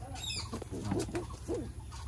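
Sarak bazi pigeons in Murshidabad give soft low coos among faint chirps and rustling, a few close, gentle calls over steady background hiss.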